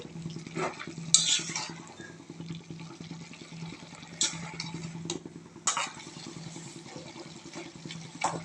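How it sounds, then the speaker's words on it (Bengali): Fenugreek greens and potatoes are stirred in a pan with a soft, wet scraping and shuffling, punctuated by occasional sharper clinks of the spatula against the metal over a low steady hum. "আলু এবং শাক সুন্দর করে নাড়াচাড়া করে"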